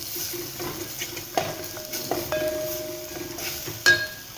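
Daal being stirred with generous coriander and vegetable masala, a spoon scraping and clinking against the pot in a few sharp knocks over a soft, steady sizzle, close up with no talking.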